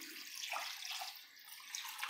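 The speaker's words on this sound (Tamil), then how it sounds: "இந்த கப்பால் 2 கப்பு தண்ணி சேர்த்துக்கலாம்." Water pours steadily from a cup into a pot of chicken curry, a soft continuous splashing hiss at low level with no talk.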